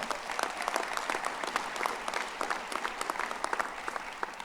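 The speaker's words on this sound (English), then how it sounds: "Can we give them a round of applause?" A convocation ceremony audience applauds drummers and dancers with steady, full clapping throughout, heard from within the hall at an even level.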